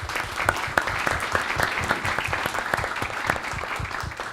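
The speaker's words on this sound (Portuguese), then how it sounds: "Peço uma salva de palmas a ela." Applause at a Brazilian political campaign event for a federal deputy candidate, steady crowd clapping with a few sharper claps standing out, continuous and fairly loud throughout.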